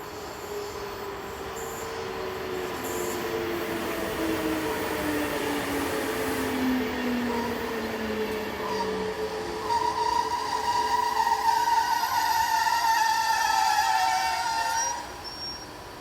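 On the Gotthard North Ramp in Switzerland, a passenger train running the Basel to Locarno service rolls steadily past with a constant rumble of wheels on track. Squeals rise and glide above the rumble before the noise drops away at the end.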